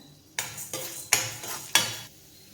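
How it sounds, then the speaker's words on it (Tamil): Urad dal being stirred and roasted in a pan, a spoon scraping and clinking against the metal in four distinct strokes, each a sharp hit trailing into a soft dry rustle. "உளுத்தம்பருப்பு போட்டு வறுத்து எடுத்துக்கிறேன்."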